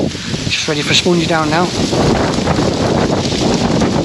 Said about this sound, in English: And yes, it's windy.